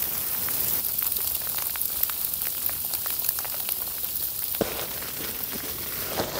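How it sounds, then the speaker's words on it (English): Sleet from a North Alabama ice storm patters steadily and densely at a winter campsite, a constant fine hiss of ice pellets with sharper nearby ticks on a tarp and surfaces. "it is continuing just to sleet like crazy"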